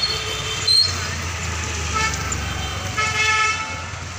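Jammed road traffic with vehicles idling and moving close by, while several car horns toot and honk at intervals over the steady engine rumble.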